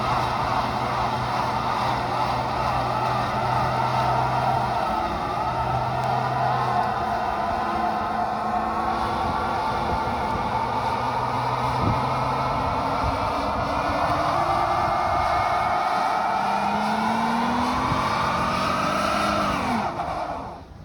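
A 2021 Dodge Charger with an automatic transmission roars through a burnout: a loud, sustained engine drone with rising and falling revs for about twenty seconds, then it cuts off abruptly at the end.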